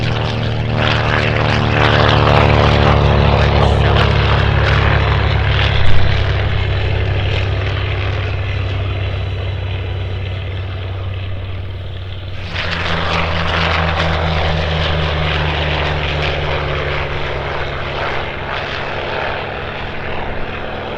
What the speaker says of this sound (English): So the TBM is just taking off now